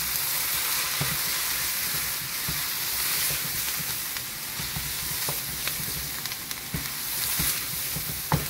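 Caraway seeds and sweet Hungarian paprika sizzle steadily in a goulash pot, a close, continuous frying hiss broken by occasional small spoon clicks as the spices are stirred.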